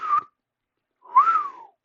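A person tries to whistle and manages two short, clear whistled notes, the first brief and the second longer and sliding downward, separated by a silent pause.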